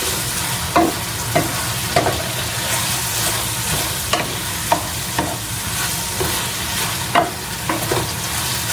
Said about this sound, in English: let me go ahead and stir the chow mein